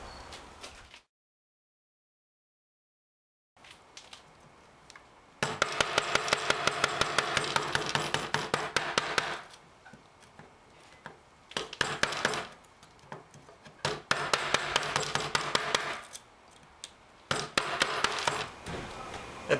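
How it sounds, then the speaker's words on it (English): Chisel cutting a bolt-hole channel into wooden decking on a bamboo bicycle trailer, heard as bursts of rapid sharp chopping and tapping strikes between pauses, fairly loud and close. "I'm going to need to chisel that out"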